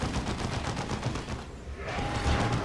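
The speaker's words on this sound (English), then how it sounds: "those turrets are just ripping into him" Rapid automatic turret fire in Dawn of War 2 sounds as a dense stream of fast, evenly spaced shots. There is a brief lull, then more firing with a faint tonal whine.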